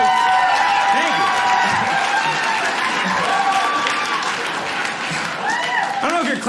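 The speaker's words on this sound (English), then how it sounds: "I don't know if you're clapping because you think it's funny or you just agree with me." An audience claps steadily at a stand-up comedy show, a dense wash of applause filling the room and easing off slightly toward the end, with a voice briefly heard over it.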